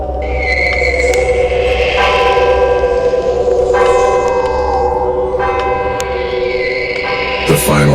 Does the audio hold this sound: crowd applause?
no